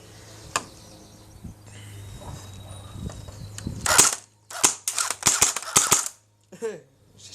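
A rapid burst of sharp cracks from an HK G36CV airsoft gun, about a dozen close, loud snaps in quick succession after a quieter stretch with low talk and a few isolated clicks.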